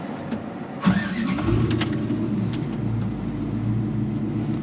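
A 4.8 liter LS V8 in a 1972 GMC 1500 resto-mod cranks briefly and fires up, then settles into a steady, smooth, rumbling idle, close and fairly loud.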